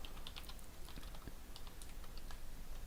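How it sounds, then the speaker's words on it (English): Steady clicking of typing on a computer keyboard, many quick irregular keystrokes close by throughout, with no talk. "If I type in a sheet name that is not there,"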